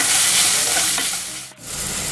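Onions with ginger-garlic paste and half a tomato frying in a pan, a loud dense sizzle with spatula stirring throughout, briefly dipping near the end before resuming.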